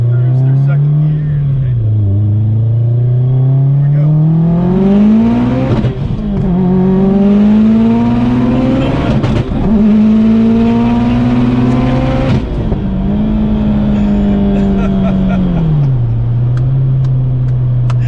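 800HP Subaru STi pulling through second gear, a loud, close engine drone whose pitch climbs and drops across shifts, with turbo whoosh and people talking inside the car over it.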